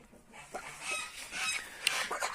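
Hens cluck in a winter poultry yard, soft scattered clucks and squawks at moderate distance over a quiet background, with no talk.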